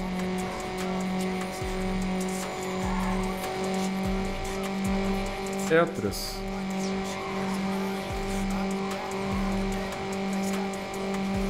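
Honda Civic in Need for Speed Underground on a circuit: a steady engine drone with rhythmic revving pulses and a brief skid-like burst midway, while someone speaks briefly.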